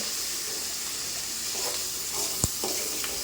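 Food frying and hissing in a pan while it is stirred and mixed, a steady sizzle with a few soft clinks and scrapes.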